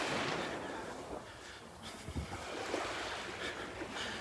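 Ocean surf on a beach in North Naples, Florida, rolls in as a soft, continuous wash with gentle swells and light wind noise on the microphone, with no speech.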